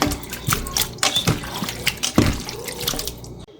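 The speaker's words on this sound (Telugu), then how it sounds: "మొత్తం వాటర్ అంతా కిందకి వెళ్ళిపోవాలి" Water drains through a colander holding chicken, running and splashing in uneven bursts with scattered drips, close and moderately loud, like liquid pouring out through holes into a basin.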